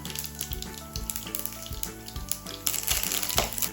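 Mustard seeds, cumin, garlic and curry leaves hit hot oil in a pan for a sambar tempering, giving a steady crackling sizzle with sharp popping bursts that grows louder and denser near the end.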